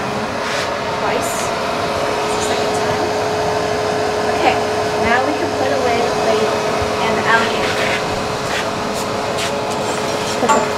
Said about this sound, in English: And the machine will go down twice.